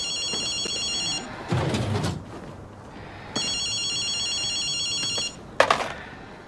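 Phone ringing in the video game Ghostwire Tokyo: two bursts of an electronic trilling ring separated by pauses, with brief clunks and thuds in between, loud and close with no talk.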